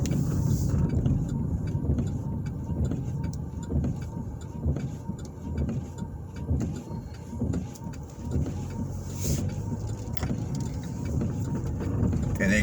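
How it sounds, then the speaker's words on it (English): A car driving along 43rd Street in west Indianapolis, with a steady rumble of engine and road noise close by throughout, rising and falling slightly as it moves. "Now I'm getting ready to drive down 43rd."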